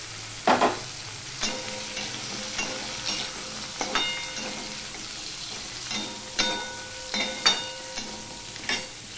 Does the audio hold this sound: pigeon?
no